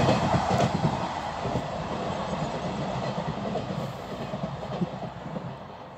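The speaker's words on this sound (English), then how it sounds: "We literally got a horn off another 158." A ScotRail Class 158 diesel train passes close by, its steady rumble and rail clatter filling the scene with no voices; any horn is not distinct within the train noise.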